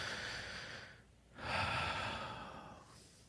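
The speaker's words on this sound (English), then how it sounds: "Take a nice big deep breath for me." A deep breath drawn in during EFT tapping, a long airy inhale swelling after a brief pause and then easing off, close and fairly soft with no talking.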